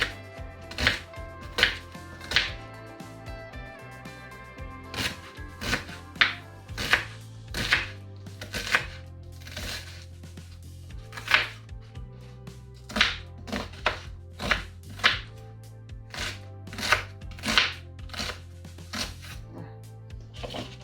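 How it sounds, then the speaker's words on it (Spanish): Ingredients for vegan lentil balls being chopped with a knife on a board: a quick, uneven run of sharp, close knocks repeats throughout, some in tight bursts, with nothing else prominent. "Picamos ya."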